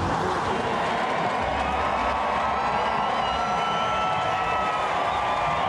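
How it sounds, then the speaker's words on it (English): A crowd applauds and cheers for race driver Sergio Jimenez at a Jaguar I-PACE eTROPHY electric car race in Mexico City. The noise holds as a steady, dense wash with no distinct voices on top. "All the applause for Sergio Jimenez"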